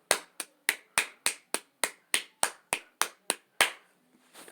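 Hands clap about thirteen times in a quick, steady rhythm, each sharp and close, with no speech, followed by a brief quiet.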